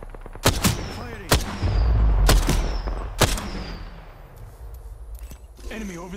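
Video game gunfire: four loud, sharp shots spaced about a second apart, each with a booming tail, followed by fading rumble and a voice speaking near the end.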